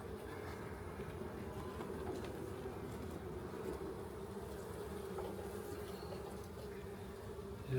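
Dense, steady buzzing of many honeybees close by around a hive frame, a continuous droning hum with no talking.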